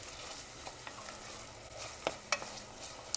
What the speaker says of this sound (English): So 2 ounces of cream cheese. We'll stir that around so it can kind of be melting.